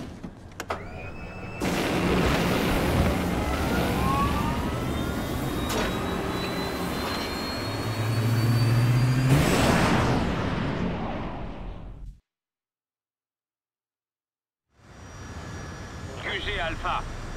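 Fighter jet engine roaring in Resident Evil 6, a loud sustained whine and rumble rising to a peak before cutting to silence, then resuming.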